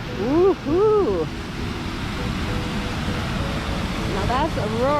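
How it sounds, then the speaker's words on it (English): Roaring waterfall at Wren Falls in Wisconsin, a steady loud broadband rush of falling water filling the scene, with a voice and excited exclamations over it near the start and end. "Now that's a roaring waterfall."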